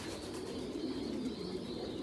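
Giant pigeon-chicken breed pigeons in a farm cage give low, continuous cooing, a soft murmuring drone at moderate distance with no talk.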